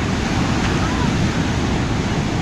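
Steady broadband roar of ocean waves washing onto a beach, loud and continuous with wind buffeting the microphone and no distinct break in the surge.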